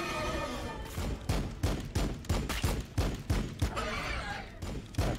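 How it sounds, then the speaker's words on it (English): Gunfire at the enemy in the strategy game Battlesector, a string of heavy volleys roughly every third of a second, punchy and fairly close over a low rumbling battle background. "Firing on the enemy."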